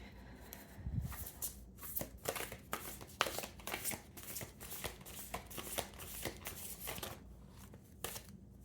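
Tarot cards are shuffled by hand in repeated quick riffling and slapping bursts, close and fairly soft, with short pauses between the rustles.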